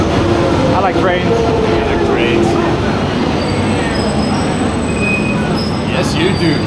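A train runs past on rails, a loud, steady rumble with squealing wheels and metallic screeches filling the whole stretch, heard up close and continuous throughout.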